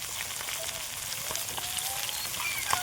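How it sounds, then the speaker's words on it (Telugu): Masala-coated fish fries in hot oil, turned to cook on both sides, with a dense, steady sizzle and crackle that holds close and even throughout, with a few sharper pops near the end. "మంచిగా అయితే ఫ్రై చేసుకుంటున్నాం"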